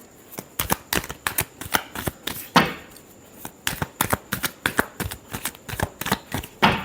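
Tarot cards are shuffled by hand in quick, crisp bursts of riffling and slapping, close up and fairly loud, with brief pauses between rounds.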